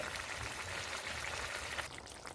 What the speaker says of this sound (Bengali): বেশ ফুটতে শুরু করেছে